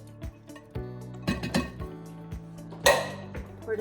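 Chickpeas going into a cooking pot for a sweet potato tagine, followed by a spoon stirring, with a scattered series of close metallic clinks and scrapes against the pot and one sharper clatter near the end.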